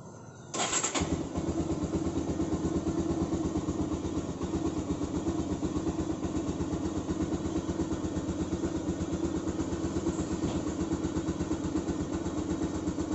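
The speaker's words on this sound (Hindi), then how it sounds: "एक बार मोटरसाइकिल ऑन करके दिखा देता हूँ आपको।" A Bajaj Pulsar 150 motorcycle engine catches after a brief start and settles into a steady, close, even idle that runs unbroken to the end.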